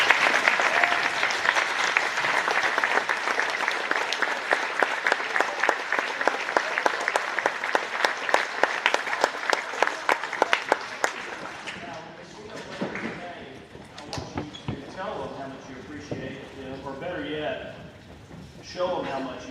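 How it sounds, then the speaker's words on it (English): A standing student body at a homecoming school assembly gives the faculty a big round of applause, loud and continuous at first, then thinning out into scattered claps and murmuring voices. "I'd like the entire student body to stand up and give a huge round of applause to this faculty"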